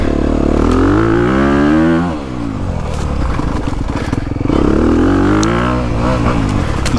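A 2022 Honda CRF250RX four-stroke dirt bike engine revs freely on a woods trail, rising twice in loud, rasping bursts, with clattering and scraping sounds from riding between the revs.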